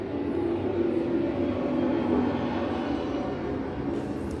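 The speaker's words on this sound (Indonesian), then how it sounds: "Sebentar, ada pesawat lewat." Low, steady roar of an airplane passing overhead, a broad continuous rumble holding level for several seconds with no talk over it.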